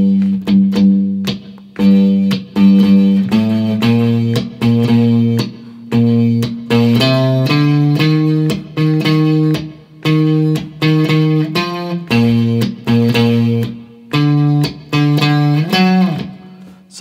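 Electric guitar run through effects plays the chorus line, a loud, close riff of short repeated plucked notes in a bouncing rhythm with brief gaps, alone without talk.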